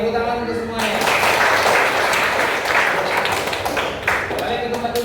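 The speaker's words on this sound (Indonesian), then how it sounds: "tepuk tangan untuk semuanya" Students clap together in a classroom after an action song, a dense burst of applause that rises after a short opening of talk and continues steadily, with voices mixed in.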